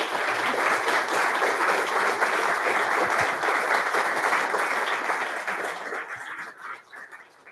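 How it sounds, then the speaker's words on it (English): Audience applause at a public science talk on solar system exploration, a dense, steady clapping from a full room that holds for several seconds before thinning and fading out toward the end. "And if you give him a warm round of applause."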